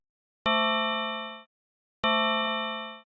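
Two synthesized bell strikes built in Unreal without recorded samples ring out alone, each a bright clang with many steady overtones that all decay together over about a second.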